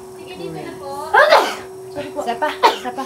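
A single loud sneeze bursts out partway through, preceded and followed by people talking in Filipino, with a steady tone humming underneath.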